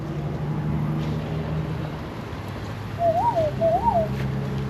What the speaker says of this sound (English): It's a red-legged serema found in South America and central and eastern Brazil.